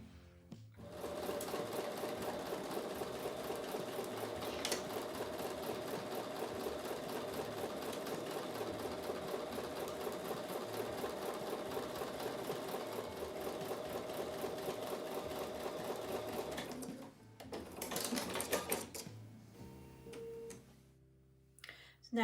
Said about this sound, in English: I'm going to take these back over to the sewing machine and sew with a 1/4 inch seam